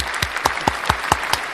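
Quick, evenly spaced hand claps, about seven sharp slaps in under two seconds, close and loud like a short applause sound effect.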